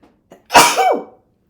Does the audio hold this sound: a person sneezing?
yes